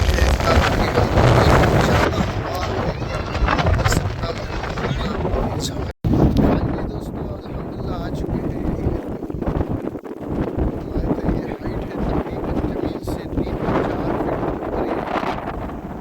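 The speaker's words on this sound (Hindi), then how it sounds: "बहुत तेज़ हवा है ऊपर जो है" Strong wind buffets the microphone on Devmali, a high mountain top in Kashmir, as a loud continuous roar with low rumbling gusts that barely drops for the whole stretch, broken only by a brief cut partway through.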